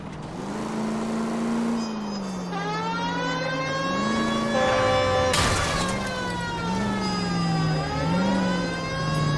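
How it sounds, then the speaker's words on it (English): Police car siren in the video game L.A. Noire, wailing steadily with rising and falling pitch over a car engine hum, loud and continuous, briefly interrupted by a sharp burst of noise partway through. "That dude totally heard my siren."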